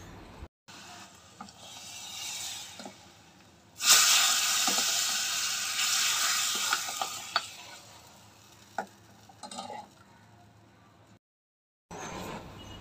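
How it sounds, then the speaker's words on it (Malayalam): Mustard seeds frying in hot oil for a mango curry: a bright sizzle bursts in and crackles steadily, with scattered pops and some stirring. It fades toward the end, with no talking. "ഇതിലേക്ക് ഇച്ചിരി കടുകൂടെ വറുത്ത് ചേർക്കുമ്പോഴത്തേന് നമ്മുടെ മാങ്ങാക്കറി റെഡിയാവും"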